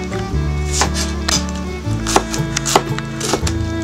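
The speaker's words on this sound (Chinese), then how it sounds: "咱们先把油菜掰好，咱们给它切成条儿" Knife chopping rapeseed greens into strips on a board, with a series of irregular close, sharp taps mixed with scraping and handling noise.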